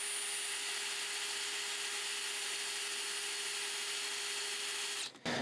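Power drill boring holes with Alpen cobalt bits through a flat steel bar clamped to a table, a steady, loud high-pitched whine held for several seconds before cutting off abruptly near the end, with no talk.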